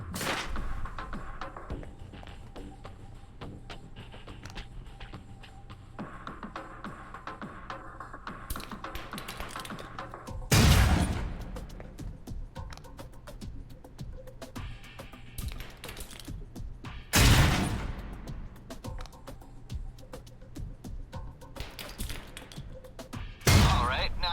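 Concussion grenades in the video game Alpha Protocol go off as three heavy, booming bursts spread several seconds apart, standing out from a steady background of game ambience and small clicks.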